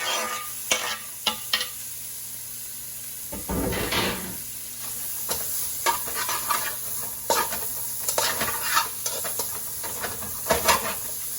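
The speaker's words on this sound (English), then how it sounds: "so I'm gonna just fry this until my onions are tender" Andouille sausage with green and red onions sizzles steadily in a hot pan, broken by frequent scraping stirs and clacks of a utensil against the pan.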